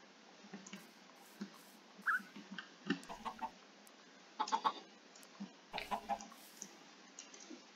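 Minecraft chickens cluck in short, scattered bursts, a few squawks standing out over a steady background hiss.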